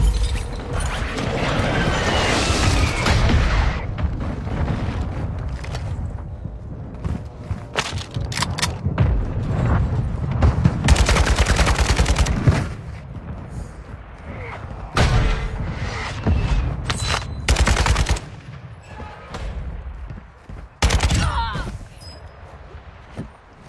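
Warzone gunfire and airstrike blasts in a loud online match: repeated bursts of shots and heavy booming impacts crowd the whole stretch, with brief lulls between volleys.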